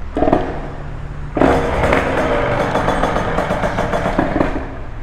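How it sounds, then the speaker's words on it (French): A motorcycle engine fires up with a burst of clatter and settles into a loud, steady, rough idle close by. "Bon là, on va démarrer, ça va faire du bruit."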